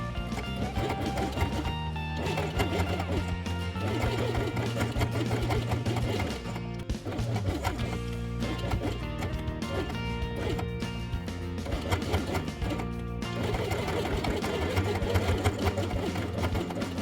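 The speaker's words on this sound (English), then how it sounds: "Place ears on beige felt and sew them along the edge with white thread." Sewing machine stitching white thread through beige felt, a close, steady rapid chatter running almost without pause, with brief dips where the stitching slows before picking back up.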